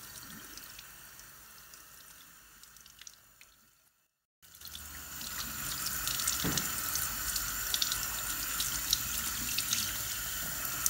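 Freshly picked parasol mushrooms are rinsed under a running kitchen tap; after a few quiet seconds and a brief cut, a steady, close rush of water into the sink carries on to the end.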